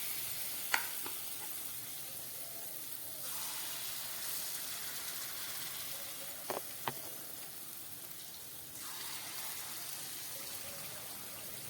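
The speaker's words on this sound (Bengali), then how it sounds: "বাকি মালপোয়াগুলো আমার ভাজা হয়ে গেছে" Palm-fruit malpua frying in oil over low heat, a faint continuous sizzle with a couple of sharp clinks and brief rushes of louder bubbling.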